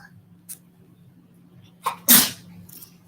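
A single sharp sneeze bursts out near the middle, preceded by a short inhaled catch and faint small noises, over a quiet room with a low steady hum.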